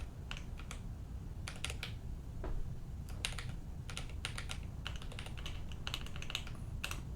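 Computer keyboard typing in short bursts of crisp key clicks, fairly close and steady, with small pauses between runs and no talking.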